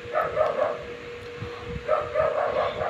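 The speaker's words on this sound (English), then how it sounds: "oh my god, there's so many dogs" Several dogs barking in short bursts, heard at moderate distance against a noisy background, with a pause in the middle before another cluster of barks.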